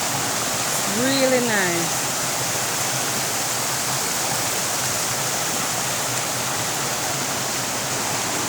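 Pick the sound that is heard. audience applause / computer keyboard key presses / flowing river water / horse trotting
flowing river water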